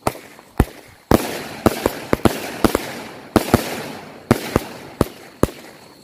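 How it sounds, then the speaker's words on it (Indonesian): A 49-shot firework cake fires at night during Ramadan, sharp loud bangs going off in an irregular rapid sequence, each with a short echoing tail. "untuk yang selanjutnya ini kita nyalain mercon wonderful cake spesial malam Ramadan"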